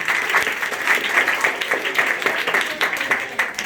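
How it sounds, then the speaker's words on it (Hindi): Audience at a rationalist gathering in Surat bursts into applause for a woman named Ankita, a few seconds of lively, dense clapping with uneven bursts and no talk over it. "एक बार अंकिता के लिए जोरदार ताली।"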